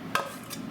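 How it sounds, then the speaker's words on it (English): A spoon stirs gumbo in a cooking pot, giving two brief scraping strokes with a soft clink over a low steady background. "We'll stir this together a little bit in this here"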